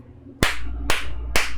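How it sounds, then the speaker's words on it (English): Three sharp, loud hand claps marking a scene transition, each one a crisp slap with a short ringing tail, evenly spaced about half a second apart over a low room hum. "Clap transition."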